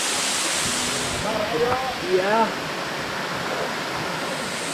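Ocean waves on a beach on a vacation outing: a constant broad rushing wash of surf fills the scene, with brief chirpy voices and a short spoken reply briefly over it.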